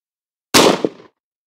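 A single sharp gunshot from a Glock 45 pistol fired during a body armor test, loud and close with a short decaying tail, set against otherwise silence.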